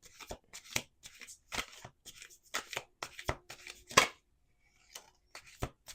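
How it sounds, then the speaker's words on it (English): A deck of playing cards being shuffled in short rapid riffles and taps, repeated bursts with brief pauses, close and clear. "one more shuffle."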